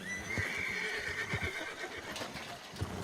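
A horse in the western role-playing game RedM lets out a drawn-out whinny near the start, with scattered hoof clops on the ground around it, moderately close and fairly quiet.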